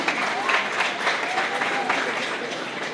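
Dense, continuous applause from a large audience fills a graduation ceremony hall, steady and moderately loud throughout.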